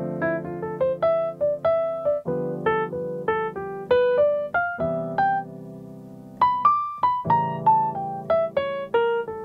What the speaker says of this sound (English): So this is the sound of chord tone soloing